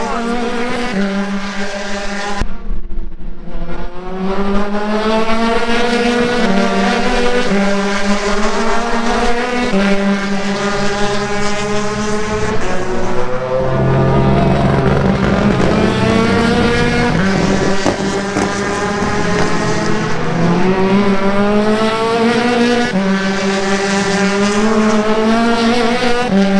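Road to Indy open-wheel race cars at spring testing: loud, continuous high-revving engine notes rising and falling through gear changes, several cars passing close in succession with no one talking.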